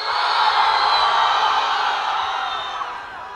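Concert crowd at a university campus K-pop performance lets out a sustained mass scream and cheer, a loud high-pitched roar that holds and then slowly fades.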